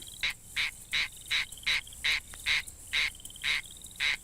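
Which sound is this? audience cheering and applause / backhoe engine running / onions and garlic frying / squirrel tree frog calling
squirrel tree frog calling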